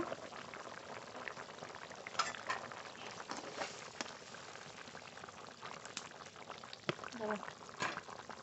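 Fish curry with fried kakle fish and potatoes simmering in a pot on the stove, a steady soft bubbling with faint liquid sputters and occasional light clinks throughout.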